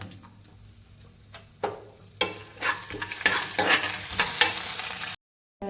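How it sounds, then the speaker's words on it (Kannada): Dry fruits frying in ghee in a pan for moong dal payasam: a quiet start, then a dense, crackling sizzle with stirring scrapes rises and holds steady close by, cutting off abruptly near the end. "ಸ್ವಲ್ಪ ಬಾಣಲಿಗೆ ತುಪ್ಪ ಹಾಕಿ ಅದಕ್ಕೆ ಡ್ರೈ ಫ್ರೂಟ್ಸ್ ಎಲ್ಲ ಫ್ರೈ ಮಾಡ್ಕೋಬೇಕು"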